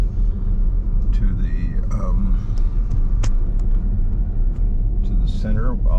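A car driving in toward a visitor center at Fort Laramie, a steady loud engine and road rumble throughout, with faint voices and small clunks over it.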